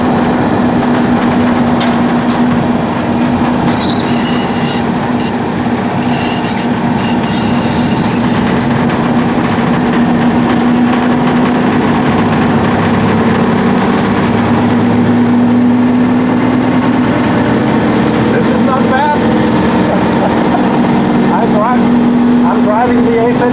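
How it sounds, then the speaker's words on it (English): A 1956 Citroën AZU runs in third gear on a slight uphill, its engine droning steadily with a constant hum and road rumble throughout, loud and close inside the noisy cabin. "I'm driving the AZU, third gear."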